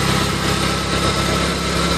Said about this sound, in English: there's no reason for you to be tortured with my full engine noise